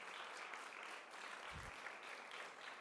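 A conference audience at a summit of women presidents of parliamentary assemblies applauds steadily, a dense, even clapping that fills the room throughout at a moderate level with no voices over it.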